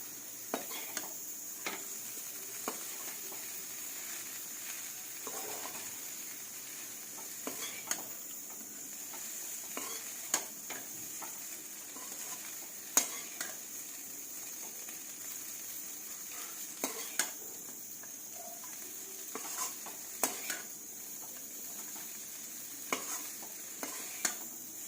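Chicken chowmein stirred and fried in a kadai at home: a constant low sizzle with repeated metallic scrapes and clinks of a spatula against the pan, steady and close, without speech.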